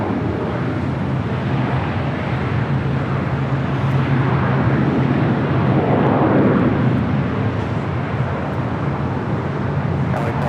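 KLM airliner taxiing at LAX, a steady low engine rumble that swells slightly in the middle and tapers off, fairly loud and continuous with faint airport noise around it.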